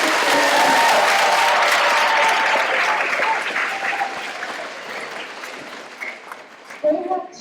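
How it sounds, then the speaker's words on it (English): Children at a school leadership day assembly clap loudly together, a dense burst of applause that gradually thins and fades, with a few voices and scattered claps near the end. "Clap your hands for second grade."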